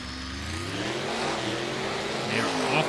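Monster truck engines roaring off the start line in a racing game, a rising rev that builds steadily and grows louder toward the end, with a commentator's voice faintly underneath.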